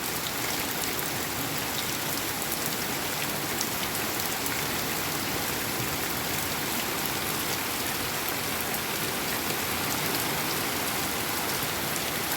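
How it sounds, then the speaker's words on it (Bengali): Steady, dense rain pours down during a thunderstorm, an even hiss of drops on surfaces that holds constant throughout with no voices. "দেখতে কিন্তু খুব ভালো লাগে বৃষ্টিটা।"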